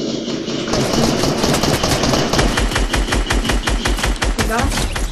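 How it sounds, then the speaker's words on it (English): Rapid automatic gunfire in a Fortnite match on PS4, a fast string of loud bursts with steady rhythmic shots over a busy game soundscape, no talk. "Hear gunshots, but those sound like the bots."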